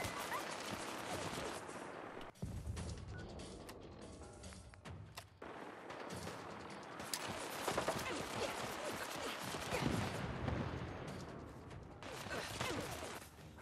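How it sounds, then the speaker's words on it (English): Enemy gunfire in Fallout 4, a dense, continuous stream of shots and impacts that holds steady over the whole stretch, with short gaps between some bursts. "I'm already getting shot at"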